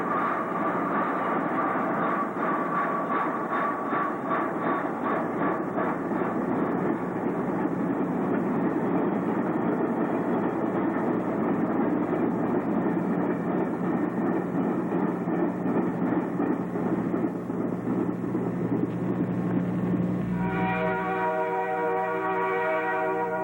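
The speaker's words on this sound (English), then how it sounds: "You can hear the chains on the rack flats rattling as they go by." Freight train of rack flat cars rolling steadily past on Ontario Northland's Island Falls subdivision in winter, loose tie-down chains rattling and clanking continuously over a rumbling rail roar, with a horn-like tone near the end.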